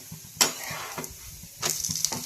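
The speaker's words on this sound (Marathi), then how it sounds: "दोघी साइडने आपल्याला थोडं तेल किंवा तूप टाकून छान भाजून घ्यायची आहे" Sabudana dashmi flatbread roasting on a pan in oil or ghee, a soft sizzle broken by a few sharp scraping and turning sounds of a spatula against the pan, close by, with no speech.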